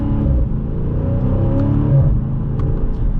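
A 2020 Dodge Challenger Scat Pack Widebody driven in manual mode, its engine droning low and steady with a swelling rev around an upshift, heard from inside the cabin.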